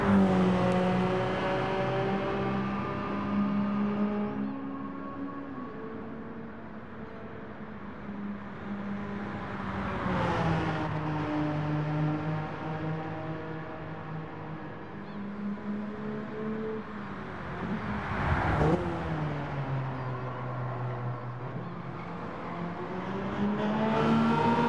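A car engine in the video game Gran Turismo 7 drones on steadily for a long stretch, its pitch rising through the gears, then dropping sharply at each shift, twice, with no voices.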